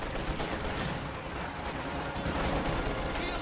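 Rapid bursts of gunfire rattle continuously in a Company of Heroes strategy battle, with machine-gun fire and clustered shots forming a dense, steady fusillade.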